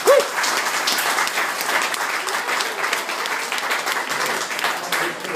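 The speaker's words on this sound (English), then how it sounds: "So I really appreciate a round of applause for the two guys." Sustained applause fills a room at a rugby club breakfast, a dense, even patter of many hands clapping for several seconds, close and fairly loud, with no talk over it.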